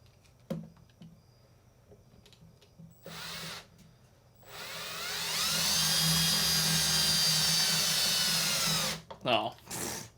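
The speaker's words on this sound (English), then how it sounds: "Let's see if we can put some screws in. Just got a couple of Phillips head screws here." A cordless power drill drives Phillips head screws into wood, a steady rising motor whine lasting several seconds, loud and close, with brief tool clicks and handling noises before and after.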